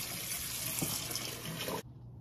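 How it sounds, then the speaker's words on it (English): Cold water runs steadily from a kitchen tap in a broad, hissing stream, loud and close, then cuts off abruptly near the end, leaving only faint room tone. "Cold water."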